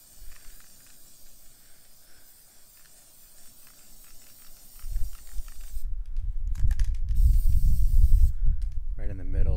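Aerosol can of clear low-odor fixative sprayed over oil pastel paintings, a soft hiss early on, then louder close spray bursts with handling noise and brief pauses, ending in a rising hiss.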